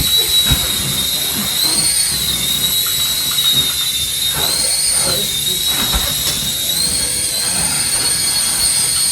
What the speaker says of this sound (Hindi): ध्रुव यहाँ पर उड़ा के देख रहा है अपना हेलीकॉप्टर